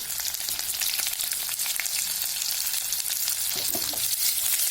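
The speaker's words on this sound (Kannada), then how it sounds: "ಹಸಿ ವಾಸನೆ ಹೋಗೋ ತನಕ ಚೆನ್ನಾಗಿ ಫ್ರೈ ಮಾಡ್ಕೋಬೇಕು" Onions and green chillies fry in a pan with golden chana and urad dal for green tomato chutney, giving a loud, steady close sizzle broken by occasional stirring scrapes and no voices.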